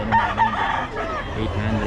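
Rooster crowing amid a game fowl market, with a crow standing out over a busy, noisy background of other birds and people talking nearby.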